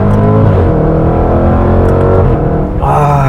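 Supercharged 5.0-litre engine of a Jaguar F-Pace SVR, a heavy high-performance SUV, roaring loud and close as it accelerates hard, a steady deep drone with rising harmonics throughout.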